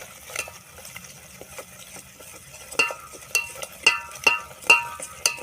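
Masala with chili powder, turmeric and salt cooking in oil in a pan for a Maharashtrian chicken curry, a soft steady sizzle under a run of metallic spoon scrapes and stirring clinks that grow louder toward the end.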